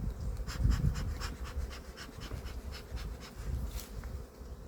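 Honeybees buzzing around an open beehive whose frames are full of bees, a dense continuous drone with individual bees whirring close past, steady and moderately loud with no voices.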